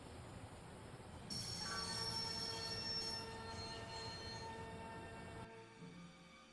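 A train in the adventure game Broken Sword: Shadow of the Templars grinds along with loud, sustained wheel squeals that rise and hold for several seconds before cutting off abruptly.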